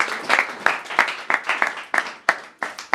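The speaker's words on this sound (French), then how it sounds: "Est-ce qu'on peut acclamer pour la gloire du Seigneur?" A congregation at a funeral service claps together in a series of sharp, rhythmic bursts, loud and close, about a dozen synchronized claps repeating at a steady beat.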